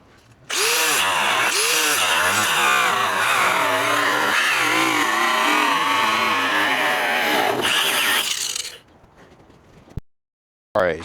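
A power tool cuts through Lexus GS300 body kit bumpers with a loud, continuous, close whine of about eight seconds, then stops, followed by a short quieter stretch and a brief final burst.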